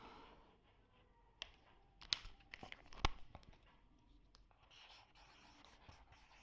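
A pen scratches across paper by hand in short, faint strokes with a few sharper taps, quiet and close in an otherwise hushed room.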